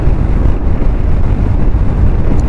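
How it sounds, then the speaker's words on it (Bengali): Strong storm wind roars past a motorcyclist riding on a road beside dusty fields, a loud, continuous low buffeting rumble with gusty swells and no voices. "এইখানটায় বুঝতে পারবে কত জোরে ঝড় হচ্ছে।"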